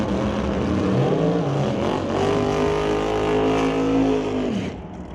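A 1978 Malibu and another drag car launch down a drag strip in a Super Pro race, with loud sustained engine roar that rises in pitch through the gears, then fades near the end.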